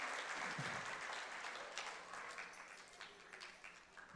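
A church congregation applauds in praise, a soft, distant, continuous wash of clapping that slowly fades.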